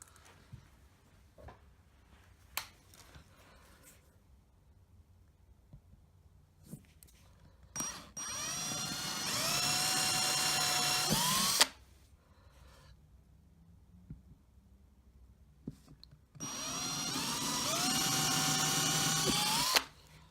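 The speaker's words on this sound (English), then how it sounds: "I'll try not to drill right through the worktop." A power drill whines into a kitchen worktop in two long bursts, its pitch climbing as it bites, separated by quiet pauses with small clicks.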